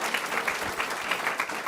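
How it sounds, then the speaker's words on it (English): An audience applauds students' performance at a board of trustees meeting, a brief burst of steady mid-level clapping from a crowd. "Let's give them a big applause, everybody."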